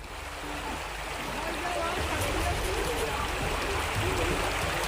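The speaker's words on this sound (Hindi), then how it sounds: "बाढ़ के हालात की वजह से सड़कों पर पानी उफन कर बह रहा है।" Floodwater from the flooding Rapti river in Shravasti surges across roads with a steady rushing, gurgling roar that grows slightly louder, continuous and close.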